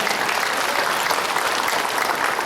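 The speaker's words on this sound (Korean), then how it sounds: "하나님께 영광의 박수를 돌려드립니다." A church congregation claps together in praise, a dense, even wash of applause at close range that holds steady for the whole span.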